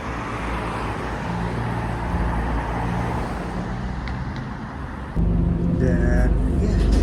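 A city bus moves along a Sydney street amid traffic, a continuous low engine rumble and road noise that grows louder and closer near the end.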